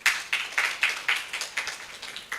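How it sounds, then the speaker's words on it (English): Audience clapping at a conference panel, a sparse run of about ten claps that fade slightly, fairly quiet. "Please clap for Niva."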